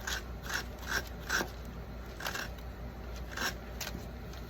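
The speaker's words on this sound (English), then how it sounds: "we're just gonna work on sanding at an angle carefully right there where the stem is" Quiet, repeated short rasping strokes of sanding a Dollar Tree craft pumpkin near its stem, irregular in rhythm, close by with no talking.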